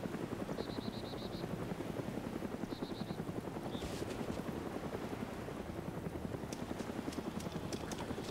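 Steady rotor thumping of a helicopter in the video game DayZ: Origins throughout, with a few short electronic beeps and clicks on top, no talking.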